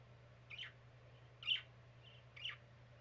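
A pet bird gives three short, high chirps spaced about a second apart, faint and fairly close, over a steady low hum in a quiet room.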